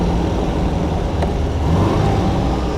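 A 1962 MG A 1600 MKII roadster's engine pulling in third gear, a steady loud rumbling drone with road noise, close and continuous, with no voices.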